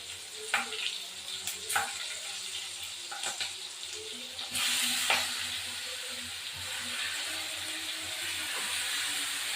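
Bottle gourd pieces frying and stirred in a pan for a fish-head and gourd curry, a steady close sizzle that swells louder midway, with occasional clinks and scrapes of the spoon.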